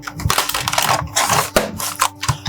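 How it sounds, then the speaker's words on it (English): Keys clatter on an Atari computer keyboard in a fast, uneven burst of close, loud clicks and thumps with no talking. "Ooh, that's an Atari keyboard."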